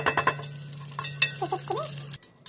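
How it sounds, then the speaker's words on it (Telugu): Whole spices tempered in hot ghee for a chicken dum biryani: quick metallic clinks and stirring scrapes at first, then a soft, steady sizzle over a low constant hum, with no talking. "ఇప్పుడు మనము నెయ్యి వేసుకొని కొంచెం తాలింపు పెట్టేసుకున్నాము"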